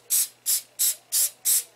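Five short, evenly spaced hissing spurts from a shaken aerosol can of Finger-Ease guitar string lubricant, sprayed lightly onto a guitar fingerboard, close and clear with near-silence between bursts.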